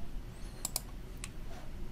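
Two sharp mouse clicks in quick succession, then a third a moment later, crisp and close over a steady low hum, selecting a write button in the Modbus Explorer software.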